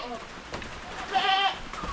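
A short bleat from a castrated male goat, moderately loud and close, rises briefly over faint background noise.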